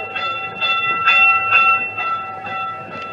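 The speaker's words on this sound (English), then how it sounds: "That's it for the boardwalk train." A small boardwalk train rolls along, its steady mechanical hum and sustained tones broken by rhythmic clacking pulses, loud and close, with no voices.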